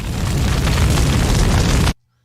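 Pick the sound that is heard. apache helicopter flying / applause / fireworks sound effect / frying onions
fireworks sound effect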